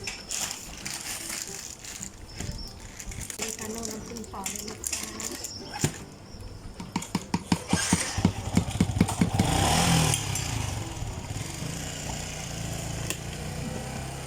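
A motorcycle engine revs hard near a street food stall and nearly lifts its front wheel, with a burst of rapid, rattling pulses building loudly amid clatter and background voices.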